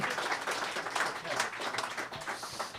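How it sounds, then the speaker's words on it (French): Applause from the crowd at a live Christmas show in a venue, fairly faint with uneven surges of clapping, and voices mixed in. "Encore une fois, une bonne main d'applaudissements, s'il vous plaît."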